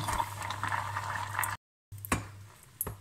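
Cream with a small piece of caramel simmers in a pan for a salted-butter caramel chocolate tart, giving a steady bubbling hiss and low hum, broken by a short gap of silence and then a few louder stirring knocks.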